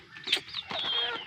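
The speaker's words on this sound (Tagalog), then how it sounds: "Tapos itong mga chicken." Chickens cluck and chatter close by in a short, faint burst of bird calls.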